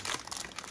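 A cellophane bag crinkles in a brief, close burst of crackling rustles while a planner is unpacked.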